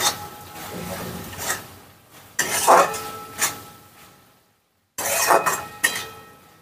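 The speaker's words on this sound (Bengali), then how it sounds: "চিনি দিয়ে একটুকু মিশিয়ে নিচ্ছি এটাকে" A spoon clinks and scrapes in a pan as sugar is mixed into a mushroom mixture for a curd-based mushroom dish, with a few sharp taps and brief pauses, close and moderately loud.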